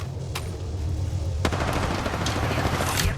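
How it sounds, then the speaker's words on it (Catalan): Gunfire in the video game Apex Legends: two sharp isolated shots, then a sustained burst of rapid automatic fire that stays loud and dense to the end. "Recibiendo disparos."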